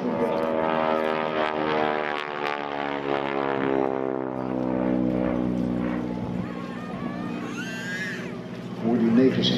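A Harvard aircraft's nine-cylinder Pratt & Whitney radial engine rumbles and pops roughly at an airshow, loud and close, with a strong harmonic drone that fades and then surges again near the end.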